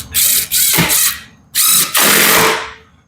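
A Ryobi cordless power tool gun, used during a camper build, whirs in two pairs of loud, close bursts, each revving up and cutting off sharply with brief pauses between.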